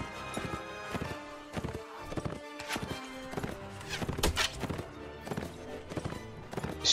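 Horse hooves galloping in the medieval combat game Mount & Blade Warband, a rapid uneven clip-clop of thudding beats, close and steady, with clashing battle noise behind.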